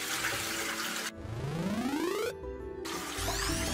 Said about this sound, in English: And finally water. In it went.